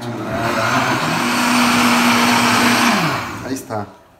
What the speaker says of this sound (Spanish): Segunda licuadora.